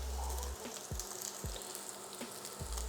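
Minced meat with tomato puree fries in a pan, a steady close sizzle with several soft scraping and stirring knocks from a utensil at irregular intervals, no voices.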